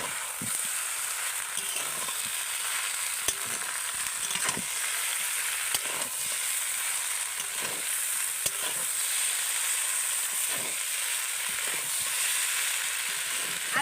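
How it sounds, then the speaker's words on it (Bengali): A tomato sauce and soy sauce mixture sizzles steadily in a pan, with a continuous hiss and repeated sharp clicks of a spatula stirring and scraping at irregular intervals, without any talk. "এবার আমি ভালো করে নেড়ে চেড়ে নেব"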